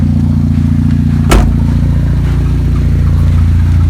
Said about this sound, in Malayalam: അപ്പോൾ ഇതാണ് ത്രോട്ടിൽ വലിച്ചിട്ടുള്ള സൗണ്ട്.